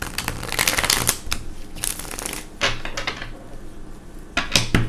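A deck of cards being shuffled in repeated bursts, crisp riffling rustles close up, with short pauses between each of several shuffles.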